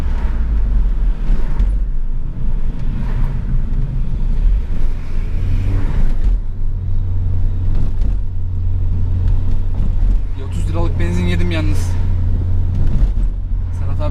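A 2.0 Turbo Opel Vectra engine revving while driving, a loud, continuous low drone close to the cabin with rising and falling pitch, with road noise and occasional voices in the car.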